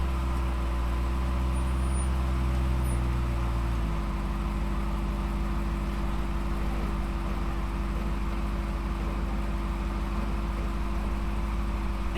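An off-road rig with an Atlas transfer case crawls over a rocky trail obstacle, its engine droning steadily and loud, with a brief rev change early on and a low rumble that holds to the end.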